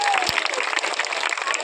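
Applause at a village panchayat gathering: a dense, steady patter of many hands clapping with light crowd noise and a voice over it.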